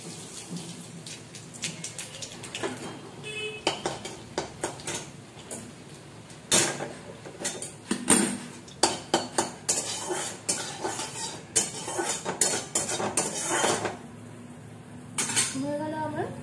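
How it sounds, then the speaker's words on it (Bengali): Nigella seeds tempering in hot oil in a wok crackle and spit in bursts, with close metallic clatter of utensils against the pan and no talking. "আমি এতে একটু কালো জিরে ফোড়ন দেব।"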